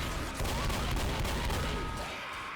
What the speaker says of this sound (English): I'm literally shooting everybody on accident, bro.